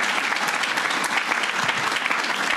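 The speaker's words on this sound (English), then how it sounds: "Let's give him a round of applause" Audience applause for the Staten Island borough president at a seawall announcement, a dense, steady burst of clapping from a crowd that holds evenly for a couple of seconds.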